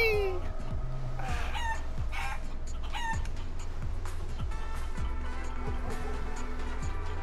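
A chicken character in the video game Guacamelee clucks and crows in short, repeated calls over looping game music and synthesized effects, all fairly loud and continuous with no talking.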